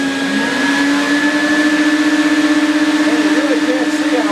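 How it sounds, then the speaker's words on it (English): A loud, steady mechanical whine with a strong droning hum runs throughout, the close-up roar of a vacuum cleaner working continuously to clean the tubes of a homemade wood boiler. "first you got to run the vacuum cleaner, clean the tubes out"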